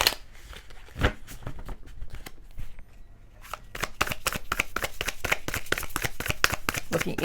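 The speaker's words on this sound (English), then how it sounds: "So I'm going to go ahead and shuffle one more time." Tarot cards riffle and slap together in a rapid shuffle, a dense run of crisp flicking clicks close by that pauses briefly and then resumes faster and steadier.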